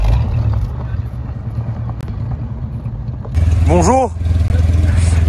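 A Porsche 914-6 flat-six engine runs with a loud, close, low rumbling idle that grows heavier partway through, while a voice briefly speaks a greeting.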